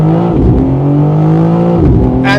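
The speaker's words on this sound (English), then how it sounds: "if I floor it, let's try to see the launch control" A 2025 BMW M4 Competition Convertible launches hard under launch control, its engine loud and close, rising steadily in pitch through the revs with a brief dip at a gear change.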